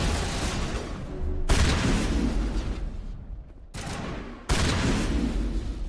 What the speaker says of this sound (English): Shotgun seems to do the trick.